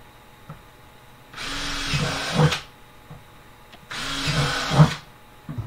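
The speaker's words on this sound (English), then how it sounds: "I'll wait till you're done drilling." A power drill whirs in two separate bursts of about a second each, loud and close, while working on a mason jar plant pot project, with quiet pauses between.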